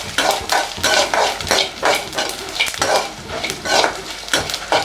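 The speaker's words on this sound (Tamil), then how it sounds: "தனியா, வரமிளகாய் எல்லாத்தையும் வாசனை வர வரைய வறுத்து எடுத்துக்கோங்க" Dry coriander seeds and red chillies roasting in a pan for fish curry spice, stirred with a spoon in repeated scraping, rattling strokes at a steady rhythm, close and fairly loud with no talk.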